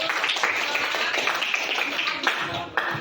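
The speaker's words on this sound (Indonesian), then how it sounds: "Oke, beri tepuk tangan dulu." Students in a Grade 10 classroom clap their hands in a dense, uneven patter with scattered sharper claps. Voices mix in throughout.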